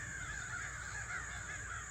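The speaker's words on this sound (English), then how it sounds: "The crows are spazzing back there on my property." Crows caw in the background behind a rural property, a steady, faint, overlapping chorus of harsh calls.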